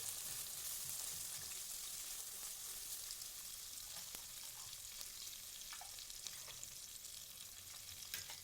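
Onion with urad dal and chana dal frying in a pan, a steady close sizzle with occasional stirring clicks running throughout, no voices.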